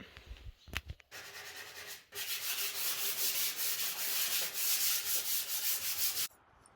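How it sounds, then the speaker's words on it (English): A flat sanding block with 220 grit sandpaper rubs back and forth across a wooden dresser in quick, even strokes, a close raspy scratching that continues steadily after a few brief knocks. "sanding it with a flat sanding block and some 220 grit sandpaper"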